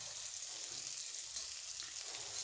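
Chopped onions frying in a pan over medium heat, a faint steady sizzle and crackle throughout with no voices.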